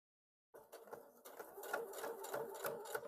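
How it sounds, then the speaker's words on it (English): A sewing machine stitches across the thick seam of a pair of jeans, starting after a brief silence and running as a steady, close, rattling whir with rhythmic needle pulses that swell slightly as it pushes through the layers. "lift your presser foot up, stick it underneath from behind, and that's going to let you stitch over that seam"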